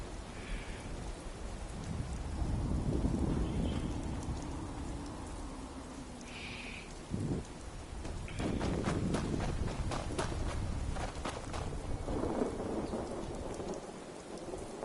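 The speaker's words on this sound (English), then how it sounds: "It's just a regular storm, not a rat." Thunderstorm in the video game Fallout 76: steady loud rain hiss throughout with rolling thunder rumbles, including a sharp crack near the middle, continuing alone without speech.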